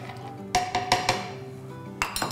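Blanched squid being stirred into a carbonara in a pan with the heat off, heard as a few sharp clinks and scrapes of a utensil on metal against a quiet background hum.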